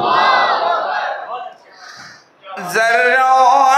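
A crowd at a religious naat gathering roars back in unison to a Nara-e-Takbir call, a loud sustained group shout rising after a brief lull, preceded by a voice.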